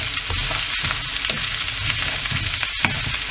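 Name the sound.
frying potatoes and broccoli in pan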